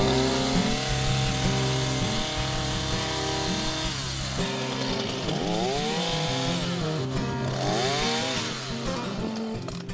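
A petrol Earthquake chainsaw cuts down tough corn stalks in a garden, its engine droning loud and close, rising and falling in pitch as it bites through the stalks.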